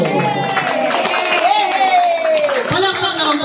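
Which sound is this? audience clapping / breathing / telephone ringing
audience clapping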